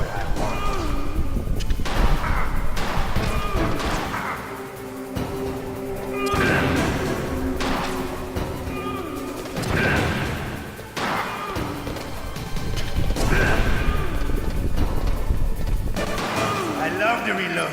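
Gunfire during the Revolver Ocelot boss fight in the PS1 game Metal Gear Solid, with repeated heavy booming shots and impacts over game music and effects, while character voices talk at intervals.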